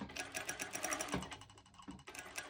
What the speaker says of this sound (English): zigzag stitch on a normal sew machine